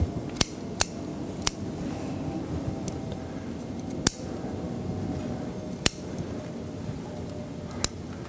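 Pruning shears snip Picea branches while thinning out a conifer group outdoors, a series of sharp isolated clicks spaced irregularly over a soft background hiss.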